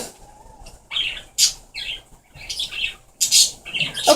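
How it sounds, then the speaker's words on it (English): Birds squawk and chirp in sharp, repeated bursts close by behind a home scene with a kitten, several loud calls clustered in two groups over a low background. "Annoying birds behind."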